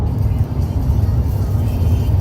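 Interior of a small car driving toward O'Hare Airport, a steady low road rumble and engine drone with the faint hiss of tires, heard from inside the cabin.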